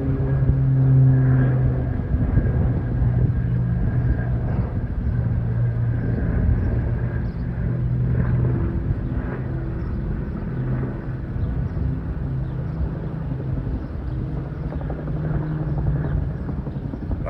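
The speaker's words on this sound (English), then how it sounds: "We got another plane popping around here." Firefighting planes flying over a wildfire near Big Bear, a continuous loud engine drone and rumble that holds steady and close for the whole span, with no talk.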